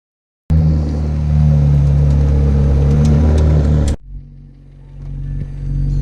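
A McLaren Elva hypercar's engine roars in a loud, sustained rev close by, then cuts off abruptly and settles into a lower idle rumble.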